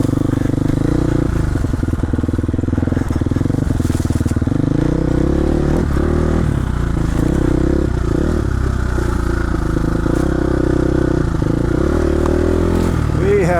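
A dirt bike rumbles steadily along a wooded trail with a continuous up-close engine drone, shifting revs and scraping brush, while a rider talks over it.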